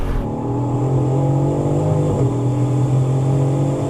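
A 700HP Supra and a BMW M3 drag racing: sustained loud engine drone with a steady harmonic whine that dips briefly mid-pull as the car shifts, then climbs again, close and continuous with no talk.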